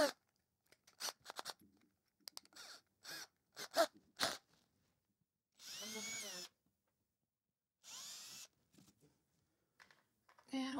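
A small power drill with a narrow bit bores into a wall while curtains are being hung, whirring in two short bursts between scattered clicks and handling noises, heard up close in a quiet room.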